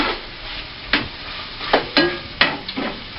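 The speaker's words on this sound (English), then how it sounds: "now we're going to stir fry this just a little bit." Carrots stir-fried in a pan: a soft background sizzle broken by several sharp scraping stirs of a utensil against the pan, close and moderately loud, with no talk.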